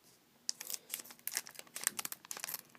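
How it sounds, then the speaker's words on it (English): Scissors snipping open a Korean Pokémon card booster pack, a run of sharp crinkly cuts and plastic rustles at close range, starting after a brief quiet moment. "handy dandy scissors"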